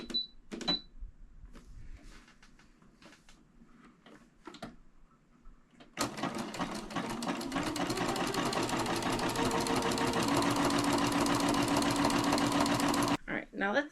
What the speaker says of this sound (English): now I'm going to go back and do a little zigzag stitch to reinforce this